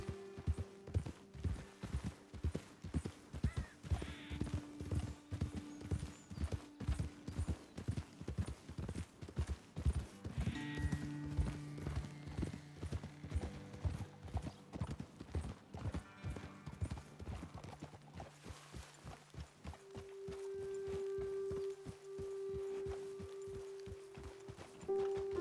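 Horses' hooves clip-clopping steadily at a walking pace while riding in Red Dead Redemption 2, several horses moving together with a continuous rhythmic beat under a soft musical drone that grows near the end; no talking.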